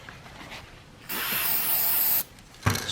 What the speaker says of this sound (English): Spray it on a rag.